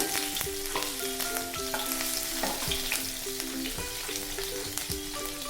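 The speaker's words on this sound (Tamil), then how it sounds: "ஜீரகம் பொரிஞ்சிட்டு இருக்கும்போது ஒரு பச்சை மிளகாய் பொடியாக கட் பண்ணினது சேர்த்துக்கலாங்க" Cumin seeds and chopped green chili splutter in hot oil, a busy, loud crackling sizzle with quick pops and clicks of stirring throughout, close up and without talking.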